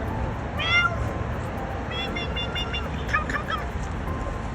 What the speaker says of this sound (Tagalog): Tawagan mo na yung pusa.